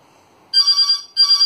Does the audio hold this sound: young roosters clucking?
no